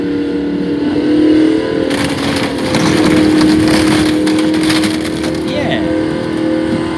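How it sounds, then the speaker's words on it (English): Car engine straining and revving as it pulls away in a high gear through deep mud, a steady loud drone with rising surges, heard close and continuous. "now he's going to pull away in a high gear and burn the clutch out"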